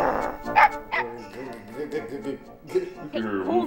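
A dog in the Megaman 64 video game barks and yips in short bursts, with people talking alongside.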